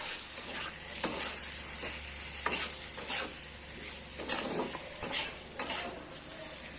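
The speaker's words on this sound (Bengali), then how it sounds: "লঙ্কাগুলো টমেটোর সাথে এখানে ভাজতে হবে" Chillies and tomatoes frying in a pan for a quick fish curry, a steady sizzle with repeated stirring scrapes and light utensil knocks, close and continuous, no talk.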